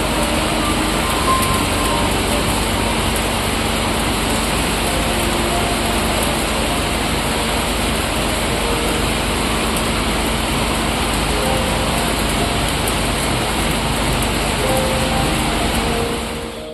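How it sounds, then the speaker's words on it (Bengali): Heavy, torrential rain pours down steadily for the whole stretch, a dense unbroken wash of noise with no gaps and no voices. "আমাদের এখানে বিগত কদিন ধরে একদম বাঁধভাঙা বৃষ্টি হচ্ছে"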